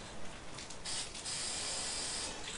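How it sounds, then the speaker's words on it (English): Spray paint mist hissing steadily from a can onto a Halo 2 mural, a continuous close airy spray with slight surges in intensity, no voices. "I'm letting some of the mist fade it in"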